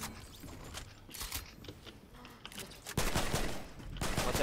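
Gunfire in a multiplayer shooter video game, faint distant shots and short bursts, growing into a louder, denser volley near the end, with no talking.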